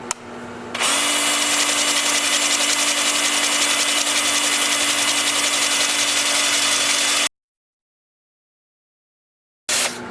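Steady, loud whir of a wood lathe spinning a fir bowl as sandpaper works it through grits from 80 to 400, a sustained tonal drone running several seconds before cutting out abruptly, then a brief restart near the end.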